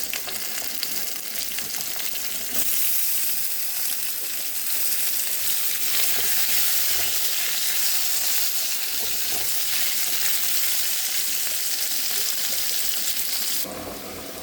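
Potatoes fry in hot oil, added over tempered spices for a spinach and vegetable curry: a loud, dense, continuous sizzle that swells after the first seconds and holds steady, close to the pan.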